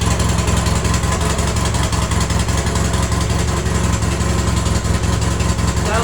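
Polaris Sportsman 700cc twin or Tao Tao 125cc quad ATV engine idling steadily with an exhaust leak, a loud continuous close-up rumble that runs unbroken with no talking.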